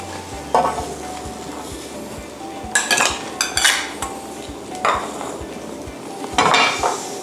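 Chilies, garlic and shallots are pan-roasted and stirred for a northern Thai chili dip, with metal utensils clanking and scraping against the pan in bursts over a soft sizzle and a steady low rhythmic tick.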